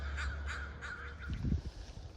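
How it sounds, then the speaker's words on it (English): Four or five harsh caws from a crow in a quick series at night on the Oregon coast, fairly faint and distant, followed by a soft low thump. "Tonight it's crows."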